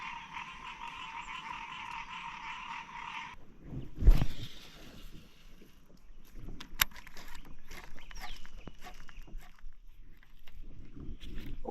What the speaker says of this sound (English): there's frogs everywhere